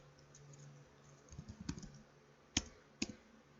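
A command is typed on a computer keyboard: a few quiet key taps, then two sharper, louder clicks, faint and close with no talk.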